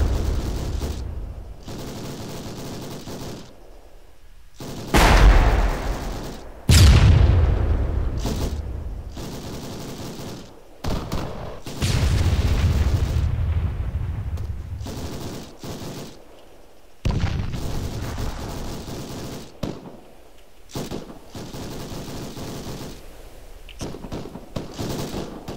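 Rapid gunfire and heavy artillery in the military video game Arma 3 during an amphibious assault: repeated bursts of shots and booming blasts with rolling echoes, with no talking.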